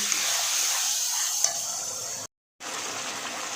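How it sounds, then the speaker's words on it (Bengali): Ground spice paste frying in a pan for a chicken dish, giving a steady close sizzle that runs without a break and is cut off briefly by silence before it resumes, with no voices. "এই মশলাটা দিয়ে দেবো এটার মধ্যে, দিয়ে কষিয়ে নেব"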